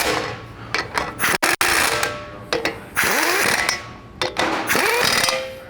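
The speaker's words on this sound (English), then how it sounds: "Now you can grab your 21mm socket and go in a star pattern and tighten these up." A ratchet wrench with a 21mm socket tightens wheel bolts in a star pattern on a 2020+ GM 2500 truck during a 6.5-inch lift install, giving repeated bursts of rapid metallic clicking close up, with short pauses between strokes.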